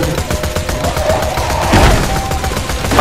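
Automatic turret fire in Borderlands 2: a steady rapid burst of gunshots runs throughout at close range, with a heavier blast near the middle.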